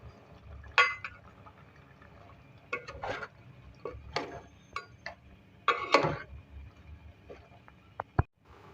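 A spoon clinks against a pot as chopped bottle gourd is mixed into tender cooked meat, a few scattered knocks and scrapes at irregular intervals, fairly quiet, with a sharp clank near the end.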